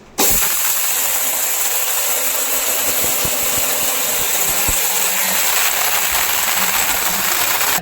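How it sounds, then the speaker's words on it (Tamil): A mixer grinder whirs steadily, grinding face pack ingredients into a paste: a loud, continuous, close-up motor roar with a hissing edge that runs unbroken from start to finish. "இப்போ இதை வந்து அரைக்கலாம்"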